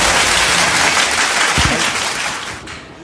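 Loud, dense applause from an audience at a Chhattisgarh state-level quiz contest prize announcement, sustained and close, then tapering off near the end.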